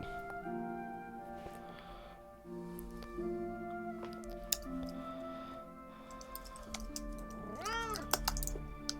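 A pet cat called Fuzzy meows once, close and fairly quiet, over a steady hum of game music and a few clicks and ticks from a keyboard.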